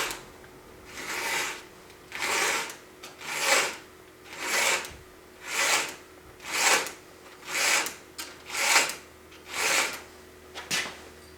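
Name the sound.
hand filing to sharpen a chainsaw chain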